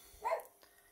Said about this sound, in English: that's our dog running around the house